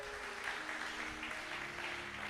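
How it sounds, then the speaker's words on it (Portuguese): A church congregation applauds during a bishop's sermon, a soft, continuous wash of clapping that sounds distant and faint, with a faint steady tone beneath. "Quem pode aplaudir o Senhor?"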